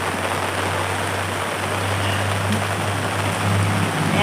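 Steady rain falls in a continuous close hiss, with a faint low electrical hum running underneath and no one speaking.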